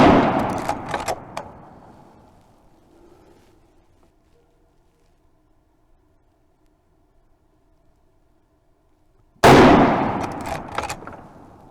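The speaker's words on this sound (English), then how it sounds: "let me shoot this factory ammo" A Marlin lever-action rifle fires Hornady 200 grain FTX factory ammunition outdoors: a sharp, loud shot opens, fading into a long quiet stretch, then a second abrupt blast cracks near the end.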